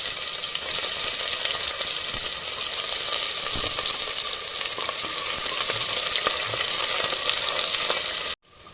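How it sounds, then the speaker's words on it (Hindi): Cumin, mustard seeds, chopped onion and curry leaves sizzle in a hot pan, a loud, even crackle that holds steady for several seconds and then stops abruptly. "अब हमें इसमें डालना है जीरा और राई डाल देंगे, और हमने प्याज और कड़ी पत्ता कट करके रखा है वो भी डाल देंगे।"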